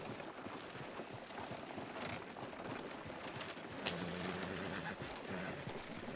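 Faint horse hoofbeats clip-clop steadily over a dense wash of ambient noise, with no speech, in the video game Red Dead Redemption 2.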